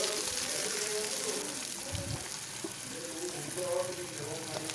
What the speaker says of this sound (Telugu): కట్ చేసిన పచ్చిమిర్చీలు వేసి ఆయిల్లో మంచిగా ఫ్రై అయ్యేలాగా కలపాలి